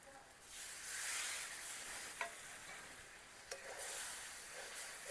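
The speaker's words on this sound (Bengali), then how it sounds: "গুঁড়ো মশলাগুলো তেলের সঙ্গে কয়েক সেকেন্ড মতো নেড়ে নেব।" Ground spices stirred in hot oil for a cabbage curry, a gentle close sizzle with a few sharp spatula scrapes against the pan, rising slightly after the first half second and holding steady.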